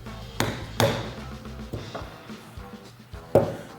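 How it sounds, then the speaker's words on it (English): A 7/8 socket is hammered to drive the starter drive out of a Harley Davidson starter clutch: four or five sharp metallic strikes, spaced irregularly, close and moderately loud, with a faint ring after each blow. "To get the drive out, 7/8 socket should work pretty good to drive that out of there."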